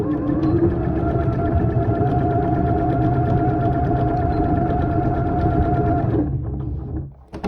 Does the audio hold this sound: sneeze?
no